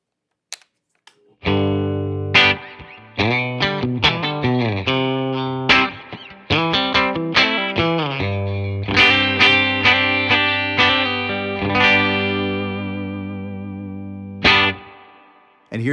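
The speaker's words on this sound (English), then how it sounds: "Here's what the bridge pickup sounds like." Fender Jaguar electric guitar on its bridge pickup, a loud, close, bright and distorted tone with chorus shimmer, playing a phrase of picked notes and chords with brief pauses before a final sustained chord fades.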